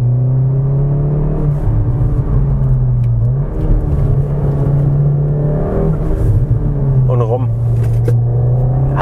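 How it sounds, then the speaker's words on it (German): A 2019 Cupra Ateca 300PS SUV engine pulls under acceleration, a steady low rumble with rising revs heard from inside the cabin, continuous for about nine seconds with a voice speaking over it. "Und jetzt geben wir nochmal Gas."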